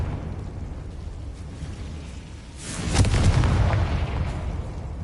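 A Confringo fire spell in Hogwarts Legacy on PS5 lands as a loud burst midway, a surging boom that swells out of low rumbling background and lingers before easing off.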